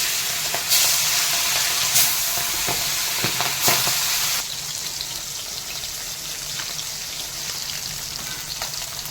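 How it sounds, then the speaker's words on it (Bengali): Small river topshe fish, salted, frying in hot oil in a pan, a loud crackling sizzle with sharp pops and stirring clatter that settles to a steadier, quieter hiss partway through. "তেল গরম হয়ে গেছে মাছগুলো এক এক করে ছেড়ে দেবো"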